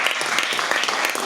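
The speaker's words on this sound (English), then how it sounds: "Round of applause for that." Brief burst of audience clapping at a sustainable development report launch, dense and fairly loud throughout with no trailing off.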